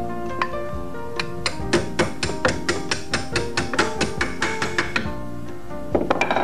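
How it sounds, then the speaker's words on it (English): A hammer pounds a dowel pin through the trigger of a vintage Tippmann SMG-60 paintball gun: a run of about fifteen close, sharp metallic blows in quick succession, then a brief pause and a few more strikes. "pound the dowel pin through."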